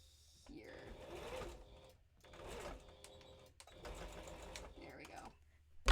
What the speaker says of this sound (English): I would like to go over this seam one more time.